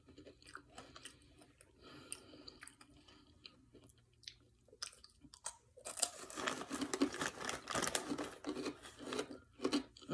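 Spicy pigless pork rinds are chewed close to the microphone, with quiet crunching at first that grows into louder, irregular crunchy bites in the second half.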